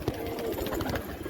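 A domestic racing pigeon perched near the loft in the evening, giving low soft coos in short repeated phrases, fairly close and quiet against faint background noise.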